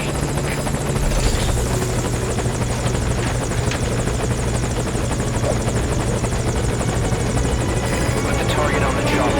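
A helicopter at a landing zone drones loudly and steadily throughout, its rotor throb close and unbroken, with faint voices murmuring underneath.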